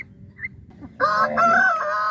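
Chickens in a free-range area: after a quiet first second, a loud, close rooster crow rings out and holds for about a second, with no voices.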